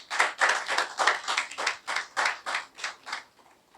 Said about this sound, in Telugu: మళ్ళా చప్పట్లు కొట్టాలి.